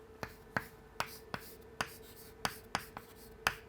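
Chalk or marker tapping and scraping across a board while a trigonometry formula is written out by hand, a string of sharp, evenly spaced clicks and short strokes, close and fairly quiet, with no talking.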